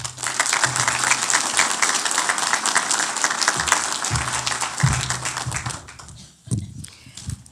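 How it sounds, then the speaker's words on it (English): Sustained, dense applause from an audience at a congressional law enforcement awards ceremony, loud and steady for about six seconds before thinning out into a few scattered claps. "Let's give Tara a big round of applause"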